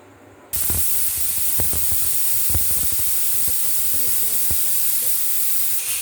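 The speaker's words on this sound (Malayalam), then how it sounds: "1ാമത്തെ വിസിലാണ് അത് അടിക്കുന്നത്." A pressure cooker's first whistle bursts in abruptly with a loud, steady steam hiss that continues, with faint knocks and clatters underneath.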